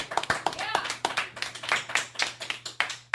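A small group of people claps during a Christmas comedy show, with a steady run of sharp, fairly close hand claps spread across the whole moment while talk and a low hum sit underneath.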